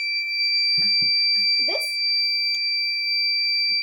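A transformer health monitoring system's buzzer alarm sounds a steady, piercing electronic tone for the whole stretch while someone talks over it.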